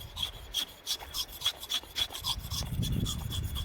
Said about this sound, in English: slide the edge, the actual flat side of the knife up and down the stone